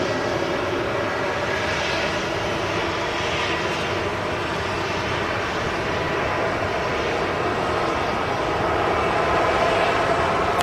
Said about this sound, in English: And also the Eurofighter Typhoon as well. Wow, what an aircraft that is.